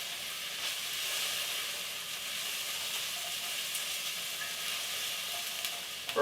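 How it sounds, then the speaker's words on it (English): Tomato soup ingredients cook down in a pan with a steady, fairly quiet sizzle and hiss that holds evenly throughout, with no talking. "In the meantime, I'm going to continue to cook this down."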